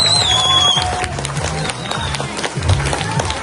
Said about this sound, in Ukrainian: Ваші оплески для команди 8-го В-класу.